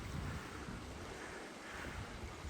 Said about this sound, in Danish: rindende vand.